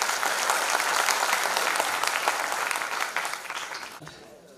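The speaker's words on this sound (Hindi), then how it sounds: "एक बार आपकी तालियां और होनी चाहिए" Steady audience applause at an evening tribute concert held on the birth anniversary of Atal Bihari Vajpayee, a dense wash of clapping from many hands that fades out near the end.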